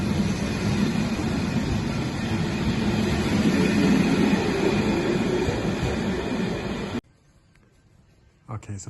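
Czech Railways train rumbling steadily at close range at Prague Holesovice station, a continuous loud roll of wheels and carriage noise for about seven seconds before cutting abruptly to near silence, with a faint sound returning at the end.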